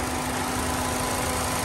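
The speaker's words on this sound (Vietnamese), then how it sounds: "Các bác nghe tiếng nổ êm chưa?" A 1.5-litre engine in a 2015 Ford Fiesta automatic idles smoothly and steadily, a loud, constant hum with no variation.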